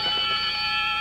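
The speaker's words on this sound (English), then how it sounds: "Got it right on the buzzer." A television game show buzzer on Scrabble (1993) gives one loud, sustained, harsh electronic tone lasting about a second, heard on its own.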